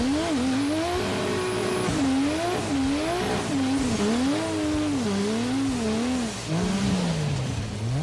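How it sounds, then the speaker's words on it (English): A muscle car engine revs hard and bounces against the rev limiter, its pitch wavering up and down in a continuous loud drone with brief tire chirps, recorded close by. "Oh, he's on the rev limiter."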